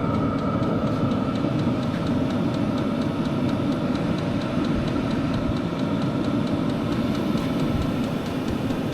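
A VEVOR diesel heater runs steadily, a continuous dense rumbling hum with a fine rhythmic ticking on top, loud and close with no pauses.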